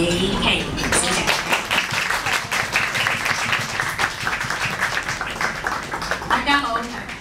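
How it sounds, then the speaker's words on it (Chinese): Audience applause welcoming a singer to the stage at a live bonfire music sharing night, dense and steady for several seconds, with a voice rising over the fading claps near the end. "多谢大家的掌声"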